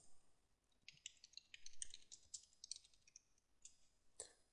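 A computer keyboard clicks under typing, quiet and close, with irregular bursts of light keystrokes and short pauses between them.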